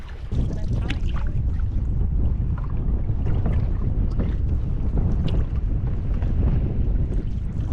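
Strong wind gusting across an open lake on a Temagami canoe trip, a loud, continuous low roar buffeting the microphone, with faint splashes and rustles mixed in and no break.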